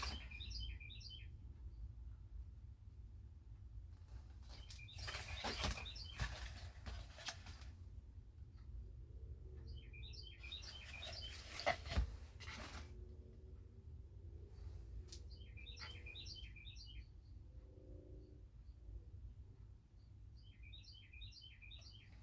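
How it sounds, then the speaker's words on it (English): Birds chirp and tweet in short repeated bursts, fairly faint and distant, over a steady low background rumble. "I can hear the birds singing"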